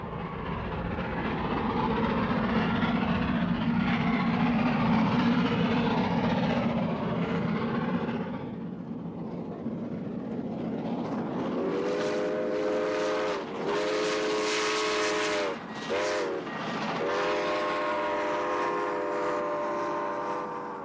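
A Grand Canyon Railway steam train rumbles heavily along the track through woodlands, then its whistle blows several long, loud blasts over the steady rolling noise.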